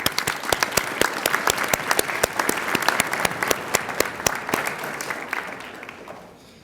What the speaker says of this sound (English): So I want to give you all a round of applause for that.